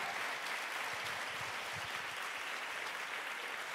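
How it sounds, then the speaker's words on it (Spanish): Church congregation clapping loudly and continuously during an online worship service, a dense even wash of applause with a few low murmurs beneath it. "Dale fuerte ese aplauso al Señor"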